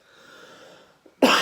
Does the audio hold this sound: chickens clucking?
no